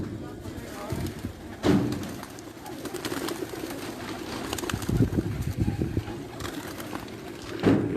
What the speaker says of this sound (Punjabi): ਹੁਣ ਨੀਚੇ ਦਿਖਾਉਂਦੇ ਹਾਂ ਤੁਹਾਨੂੰ ਕਬੂਤਰਾਂ ਦਾ ਵੀ